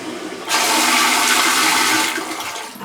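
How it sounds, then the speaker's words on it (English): A Japanese toilet at Tokyo DisneySea flushes with a loud, close rush of water that starts abruptly, holds steadily for about a second and a half, then tapers off, with no one talking. "that's flush."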